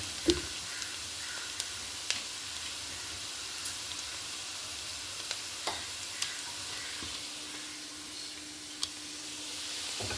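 Ground masala paste sizzles in a hot pan for coriander leaf rice, a steady soft frying hiss punctuated by faint ticks and clinks from stirring.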